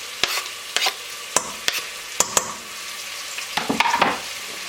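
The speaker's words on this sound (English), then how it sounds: "we're going to start by frying the onions" Onions, tomatoes and garlic sizzle in a hot pan while a utensil stirs and scrapes against it in irregular clicks and knocks, close by.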